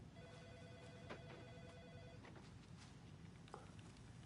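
A telephone rings in the video game Alan Wake 2, a repeating electronic ring in short bursts heard fairly quietly over a dark ambient game soundscape, with no talking.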